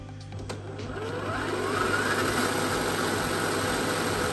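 A Traction Hobby F150 1/8-scale RC truck drives in front-wheel drive, its electric motor giving a steady, close whirring drone that rises slightly in pitch as it picks up speed.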